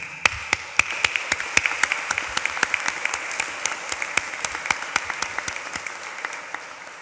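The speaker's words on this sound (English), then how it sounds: "I have been in front of graduates hearing live applause" Live applause from a graduation ceremony crowd, many hands clapping in a steady, dense patter with sharp individual claps standing out, sustained at moderate distance throughout without speech.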